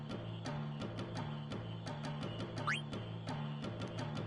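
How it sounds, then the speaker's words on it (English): A chorus of frogs croaking in the video game Final Fantasy IX, steady rhythmic croaks repeating about twice a second over a low droning backdrop, with one brief rising chirp midway. "Oh hey, a bunch of frogs."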